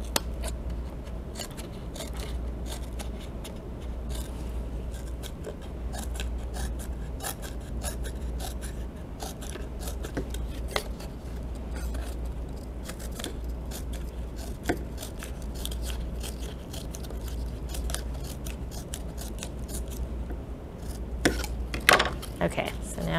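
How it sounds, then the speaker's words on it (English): Scissors snip small lines into cardboard for a DIY ramp walker toy: a long series of close, crisp cuts at an irregular pace over a faint steady hum, with occasional quiet talk. "I'm just gonna cut the cardboard to make it look kind of fluffy"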